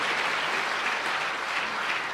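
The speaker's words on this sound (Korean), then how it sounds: "이왕 박수 칠 거 크게 한번 쳐주셔요" Church congregation at a central-conference elders' couples retreat breaks into steady, dense applause, a continuous wash of clapping from many hands filling the room throughout.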